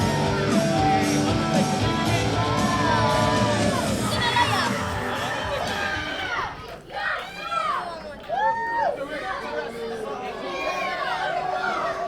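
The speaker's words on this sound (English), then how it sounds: "the crowd is giving it to Kit Osbourne" A wrestling crowd at a Dog Collar match yells and chatters loudly at Kit Osbourne, a dense roar of many voices with shouts rising and falling throughout.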